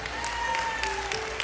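A church congregation claps together in a steady, moderately loud patter, with a sustained tone from music or a microphone running beneath it.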